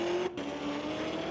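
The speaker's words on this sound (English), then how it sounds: "The white Cocoa Corvette facing off against the mean green Lorco Auto Parts Mustang." A white Corvette and a green Ford Mustang drag race at Mission Raceway on a street-legal Friday night. Their engines give a sustained roar at a steady pitch with a brief dropout, heard at some distance and without talk.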